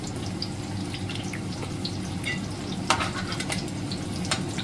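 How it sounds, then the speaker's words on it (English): Steady crackling sizzle of breadfruit frying in hot oil, continuous throughout, with a few sharper pops and spatters near the end. "I had already started pre-cooking or pre-frying this breadfruit, this first batch."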